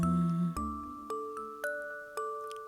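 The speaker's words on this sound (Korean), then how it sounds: "12시를 알리는 종소리가 들려왔어요" A bell chimes midnight, five clear ringing strikes spaced about half a second apart, each decaying into the next, soft and alone.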